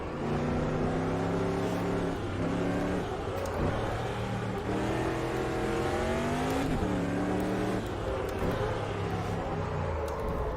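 A loud, steady super truck engine drones and revs continuously with shifting pitch in the racing game Automobilista, filling the whole stretch without pause.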